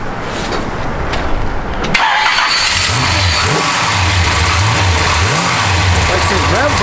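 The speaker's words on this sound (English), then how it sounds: "Like this revs like a small block." A 1953 Chevrolet Bel Air engine fires up after a brief crank, then revs repeatedly in rising and falling surges like a small block, loud and close, with voices talking over it.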